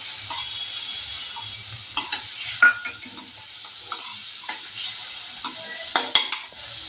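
Sautéing in a pan while making achari bhindi, a soft steady sizzle under intermittent scraping stirs and light clinks of a spoon against the pan.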